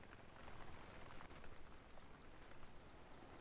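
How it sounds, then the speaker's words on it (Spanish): Steady rain falls in theHunter: Call of the Wild on the Hirschfelden hunting reserve, a constant dense hiss of drops filling the scene with no talk. "Oh, encima la lluvia, tío. No, la lluvia, no."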